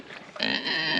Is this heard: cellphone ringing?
no